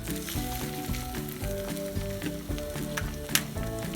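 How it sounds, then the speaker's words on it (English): An egg with a broken yolk frying in a pan, a steady close sizzle and crackle running throughout with a single brief louder pop near the end, with no talking. "we have the yolk broken, letting it cook on one side"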